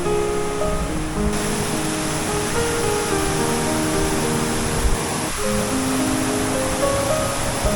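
Water pours steadily over a water lock like a waterfall, a dense, constant roaring rush close by, with faint tonal background sounds and no speech.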